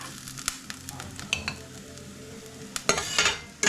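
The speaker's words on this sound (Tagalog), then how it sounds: "Kasi sasangkotsain pa yung baka." Beef sizzles and is stirred in a hot pan, with steady frying crackle and intermittent scrapes and clinks of a utensil against the pan, growing louder near the end.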